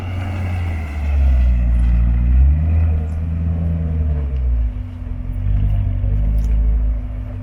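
A new car rolls through a gravel works, its engine rumbling low and steady at close range, swelling briefly as it passes and easing off again.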